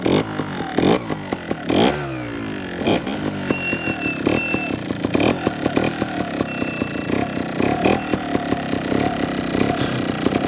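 A Honda Montesa 315R trials motorcycle ridden up close, the two-stroke engine buzzing and surging in quick revving bursts, with chattering clatter and scraping as the bike works over terrain; loud, with no speech.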